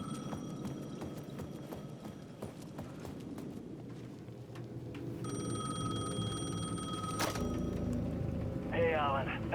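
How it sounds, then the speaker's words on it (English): A ringing payphone in the video game Alan Wake 2 sounds over layered game ambience with hoofbeat-like clatter, a steady electronic tone entering midway and a brief warbling burst near the end. "The payphone at the edge of the plaza was ringing again."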